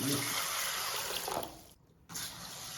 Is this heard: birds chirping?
no